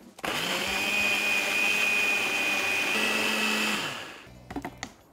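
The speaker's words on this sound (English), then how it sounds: "And then grind it all up in your blender." A blender grinding hot sauce made with Worcestershire sauce, mustard and red wine vinegar: a loud, steady motor whine for about four seconds, then spinning down, followed by a few clattering knocks.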